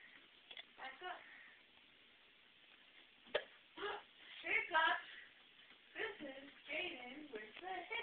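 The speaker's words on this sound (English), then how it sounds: "You got the hiccup." A small child hiccups several times, short sharp gulps scattered between bits of speech and background noise in a home, fairly faint overall.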